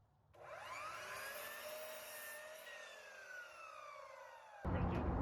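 Wood planer (thicknesser) running, a faint steady whining drone with slowly sliding tones as a board feeds through, ending abruptly in a burst of noise.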